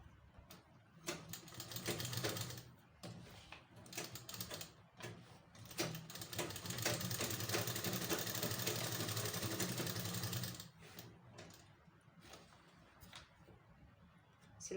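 A sewing machine stitches a palazzo pant in quiet bursts, running steadily for several seconds in the middle between shorter starts and stops, with no talking.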